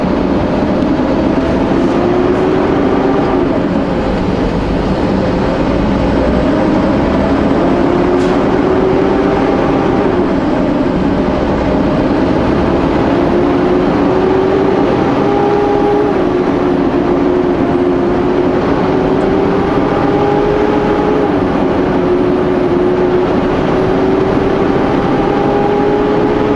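A loaded truck running with its engine cooling fan engaged, producing a loud continuous roar with a rising and falling whine as it pulls along, no voices.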